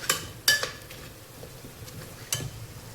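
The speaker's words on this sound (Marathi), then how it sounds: "खवा मिक्स करून घ्यायचा आहे आपल्याला" Khoa is stirred into carrot halwa in a pan. A few sharp spoon clinks and scrapes against the metal stand out over a soft, steady sizzle.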